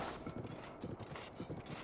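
Horse hooves in Breath of the Wild, a quick, regular clip-clop gallop of repeated thudding hoofbeats, close and fairly soft, with no speech over it.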